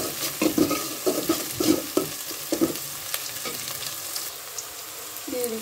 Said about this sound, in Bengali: পেঁয়াজ দিয়ে একদম ব্রাউন কালারের উপরে ভেজে নিতে হবে